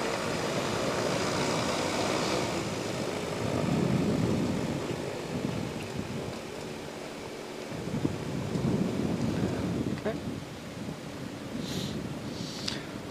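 Strong gusty wind buffets the microphone during a gyrocopter landing on a runway, a steady broadband roar with heavier gusts swelling and easing throughout, no talk heard.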